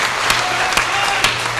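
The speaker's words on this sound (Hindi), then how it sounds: "इस बात पर हाथ उठा के तालियां होनी चाहिए" A loud burst of audience clapping with hands raised fills a Hindi comedy and poetry stage show, continuous dense applause marked by a few sharper accents throughout.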